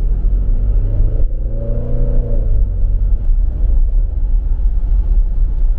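A new car fitted with an aftermarket exhaust gives off a deep, steady growl that rises briefly in pitch as the engine revs, then drops back to a constant low rumble.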